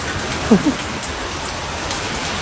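Heavy rain pouring down steadily, a dense close hiss of drops drumming on a surface, with a brief faint voice near the start.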